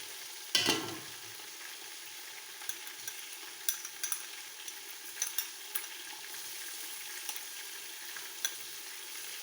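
Chicken and cauliflower frying in a pan with ginger and garlic just added, a sharp burst of sizzle at the start settling into steady crackling and frying hiss with occasional small pops, no talking.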